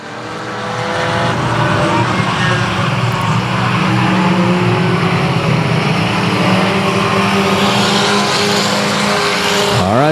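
Race cars roar around the oval at South Texas Speedway, a loud, dense engine drone building in the first second and then holding steady, with tire squeal and skidding near the end.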